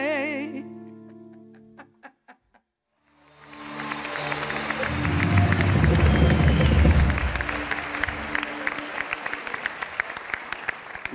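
A studio audience bursts into loud applause after a short sung passage and a pause, swelling to a full roar of clapping that slowly thins into scattered claps.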